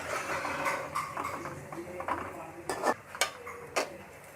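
A spoon stirs chicken veg spaghetti sauce with ketchup and salt in a pan, giving scattered metallic clinks and scrapes that grow sharper toward the end, with no talk over them.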